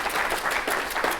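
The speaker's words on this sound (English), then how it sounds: "Let's give them a big round of applause for that." An audience at a school district's State of the District event gives a brief burst of continuous, moderately loud applause from many hands.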